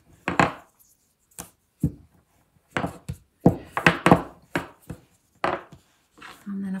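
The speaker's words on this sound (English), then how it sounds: "I'll just put some corn flour onto the table and onto the paste and then roll out nice and thin" A rolling pin presses modelling paste thin across a cornflour-dusted table in a series of short, dull knocking and rubbing strokes with quiet gaps between them, close and moderately loud.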